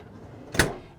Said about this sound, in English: Over here, we have an Inox 65 drawer fridge.